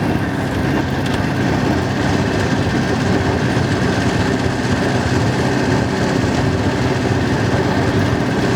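A 1929 Austin 7 Chummy engine running while driving, a loud, steady low rumble and drone with road and wind noise throughout, unbroken and close, with no voices.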